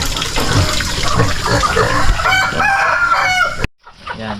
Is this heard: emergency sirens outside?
no